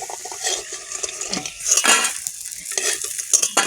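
Washed bori, small sun-dried lentil dumplings, fry in a little oil, giving a close, uneven sizzle broken by clinks and scrapes of a spoon against the pan.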